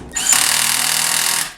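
A Milwaukee M12 drill drives a fastener in one loud, steady whir lasting about a second, winding up sharply and cutting off as the clutch stops it.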